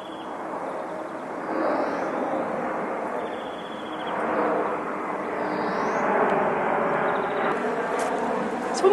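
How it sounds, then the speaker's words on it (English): An aeroplane passing overhead above the quiet gardens of Tapada das Necessidades in Lisbon, a broad, steady engine roar that swells and recedes gently over several seconds with faint outdoor ambience beneath. "It's almost beautifully peaceful apart from the aeroplane."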